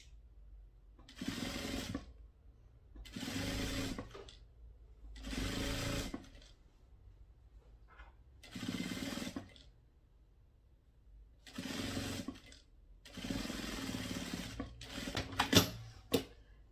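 A sewing machine stitching the lining of a small half-moon fabric bag, running in about seven separate bursts of one to two seconds each with quiet gaps between, close and steady whirring.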